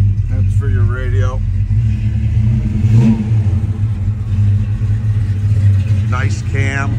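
A 1957 Chevrolet 210 V8 rumbles and revs after a cold start, a steady low idle swelling in short blips, heard close, with someone talking over it at the start and near the end.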